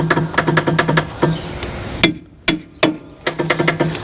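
Hammer blows struck on a lawn tractor starter, sharp metallic clanks in quick bursts of several hits, a pause, then scattered single strikes and another rapid run, loud and close.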